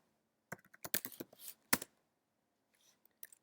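Keys clatter on a computer keyboard in short irregular bursts, a rapid cluster of clicks followed by a pause and a few final taps, close and fairly quiet with no talking.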